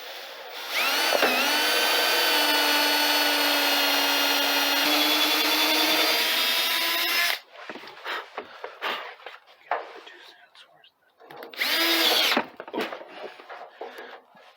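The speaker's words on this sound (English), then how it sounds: "we can drill a hole." A power drill whines loudly and steadily for several seconds while drilling a hole during a trailer build, then stops; after some quieter shuffling and handling noises, a second short burst of drilling follows.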